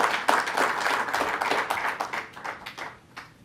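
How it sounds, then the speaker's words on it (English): A crowd applauding with dense, steady clapping that gradually thins and fades over a few seconds, fairly close and lively. "Let's give Dr. Mantosh Dewan another round of applause for what he has done here."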